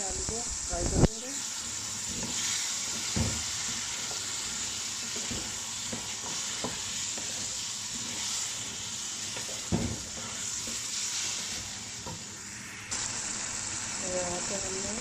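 Potatoes sizzle steadily as they fry in a tomato masala, with scraping stirs and occasional knocks of a spoon against the pan over a constant hiss.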